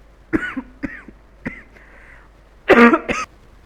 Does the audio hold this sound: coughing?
yes